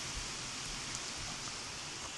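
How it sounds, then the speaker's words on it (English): Steady rain falling outdoors in Ireland on a wet morning, a dense, even patter and hiss close by with no pauses, alone without voices. "as predicted, currently it is raining"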